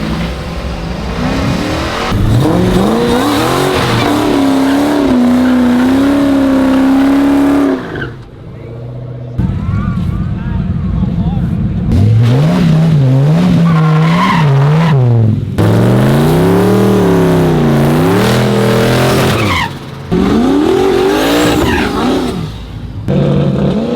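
Race cars at a street drag event on Woodward Avenue accelerate one after another, loud engines rising and falling in pitch through repeated roaring pulls with brief gaps between runs.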